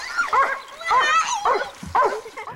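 A dog gives a run of yelping, whining barks in several rising, wavering bursts, close and fairly loud, with no other sounds around it.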